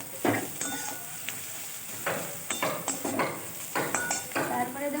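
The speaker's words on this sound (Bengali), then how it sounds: "এবার দেবো আদাটাকে ভালোভাবে কষিয়ে নিতে হবে" Ginger frying in a pan while preparing a pabda fish dish, with repeated scraping stirs and clinks of a spatula against the pan over a soft, steady sizzle.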